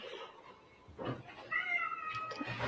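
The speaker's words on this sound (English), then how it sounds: "I think it's the cat in my background." Somewhere in a room, a cat gives a drawn-out meow, faint and a little distant, after a few soft bumps and rustles.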